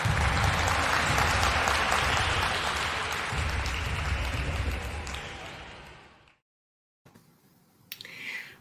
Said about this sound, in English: Let's give our 2021 inductees one last round of applause.